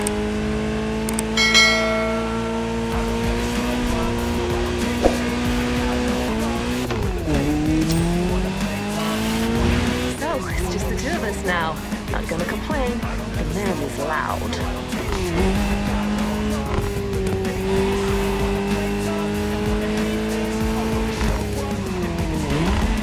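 A Ferrari 308 GTS in the racing game The Crew Motorfest drives hard, its engine note rising and falling through gear changes while tires squeal and skid loudly and continuously.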